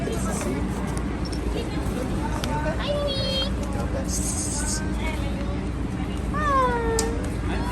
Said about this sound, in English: It's a girl cat.